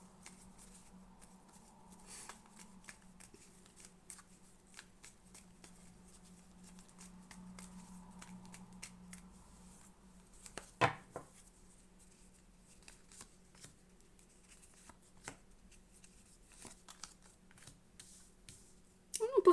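Tarot cards are shuffled softly and repeatedly over a long stretch, with quiet riffling and tapping and one louder snap, close and faint.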